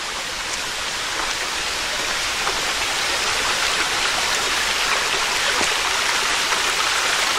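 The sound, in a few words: small stream with little waterfalls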